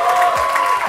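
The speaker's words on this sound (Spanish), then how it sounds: "aplausos a Melvin, que está en chinga." A brief burst of applause and crowd noise for Melvin on a talk show episode, loud and close, with a tonal hum running beneath it.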